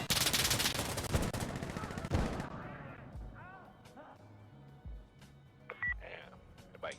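Heavy gunfire in the video game Insurgency Sandstorm: loud, dense rapid bursts crackle for about two seconds, then stop, leaving only scattered quieter game sounds and a few brief electronic blips.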